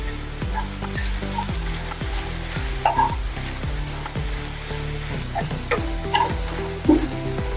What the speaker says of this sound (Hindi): अच्छे से मिक्स करेंगे और थोड़ी देर इसको भी भून लेंगे।